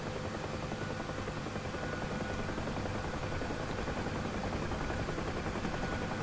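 Helicopter in DCS World flight simulator game lifting off and moving forward, a steady loud broadband rotor and turbine roar with faint rhythmic blade chop, continuous throughout with no talk.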